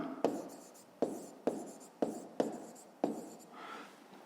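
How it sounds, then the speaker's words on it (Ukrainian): A pen writes a digit by hand on paper during a fifth-grade math exercise, making a series of close, crisp scratching strokes in an uneven rhythm, six distinct strokes followed by a lighter scrape. "Пишемо цифру."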